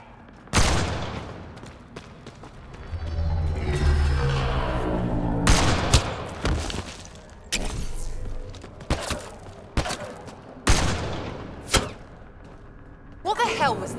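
Gunfire in the sci-fi shooter Mass Effect Andromeda, several sharp loud shots spaced irregularly through combat noise, with voices talking in between.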